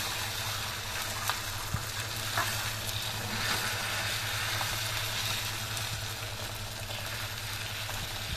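Egg omelette for a chapathi egg roll sizzling in a pan, a loud, steady crackling hiss holding evenly throughout with a low hum underneath.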